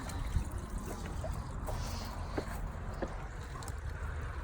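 Steady water trickling and dribbling out of an upward-flow pond gravel filter, fairly close, with a continuous low wash and occasional small splashes; no voices.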